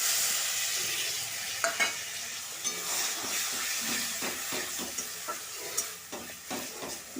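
Ground chickpea greens fry in a spice mix in a pan, giving a soft continuous sizzle broken by repeated scraping stirs and light utensil taps, close by and fairly quiet.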